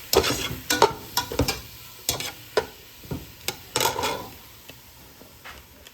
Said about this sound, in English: Let me stir this a little. Mix it up.